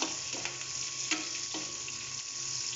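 Chopped onions frying and being stirred in a pan after browned garlic, a steady low sizzle with a few soft utensil scrapes, close and without talk.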